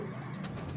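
A female pigeon in a breeder's loft gives a short, soft low coo, heard close and alone.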